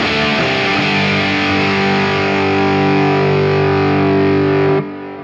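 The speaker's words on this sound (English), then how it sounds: "And then the tube driver." An electric guitar driven through the tube driver overdrive on an Axe-FX III rings out as one loud, sustained distorted chord that holds steady for nearly five seconds before cutting off abruptly.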